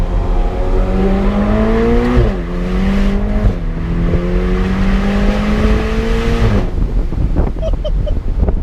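A Ferrari Portofino's exhaust while driving, loud and close, its engine note climbing through revs, dropping briefly at a gear change, then rising again before easing off at the end, with wind rushing over the car.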